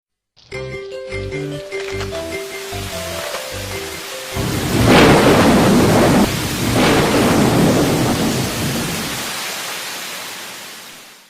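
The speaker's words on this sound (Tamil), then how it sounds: "அட என்ன ஒரு மழை!" A short musical passage gives way to a loud, steady roar of heavy rain, with rolling thunder swelling twice before the downpour fades out.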